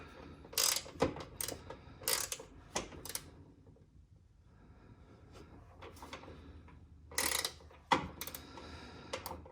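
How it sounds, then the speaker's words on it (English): A ratchet wrench tightens a bolt on an AMP Research power step for a 2018 Ram truck, heard as close bursts of rapid clicking that pause briefly in the middle and then resume. "Just use a ratchet wrench."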